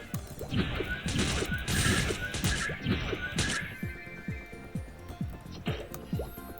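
Gatling attack gunfire in the Maplestory Artale video game: rapid bursts of sharp, crunchy impact hits in quick succession over game effects, fairly faint and at moderate distance.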